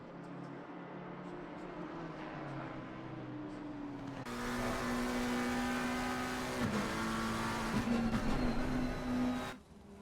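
Race cars lapping the Bathurst circuit in a racing video game, several engines droning and rising in pitch at once, steady and loud throughout, with a sharper gear-change dip partway before cutting off at the end.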